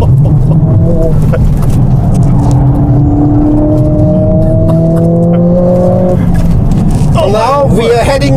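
A Mercedes-AMG CLA 45 S with automatic gearbox pulls hard on a circuit, its engine note rising in steps as the transmission shifts up, loud and close from inside the cabin, with someone talking over it.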